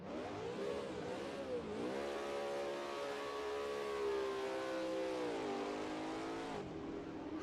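A raw Holden 5 litre race car engine at Hidden Valley in a racing video game, revving loud and close with rising and falling harmonic whine as it accelerates and shifts, continuous throughout with no talking.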